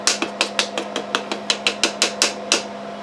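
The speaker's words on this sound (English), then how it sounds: "I like to use the plastic end of this hammer. We'll tap this thing on home here." Plastic end of a hammer tapping a piston down into a GM 2.4 Quad 4 LD9 twin cam engine block from a 1999 Grand Am, about a dozen quick, even taps over a steady low hum.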